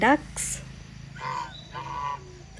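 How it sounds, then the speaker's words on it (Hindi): Friendly pet ducks kept at a resort near Pench National Park give several short nasal honking quacks at moderate distance, with faint background chatter between calls. "डक्स इस रिसोर्ट की ही पेट्स हैं और बहुत फ्रेंडली हैं।"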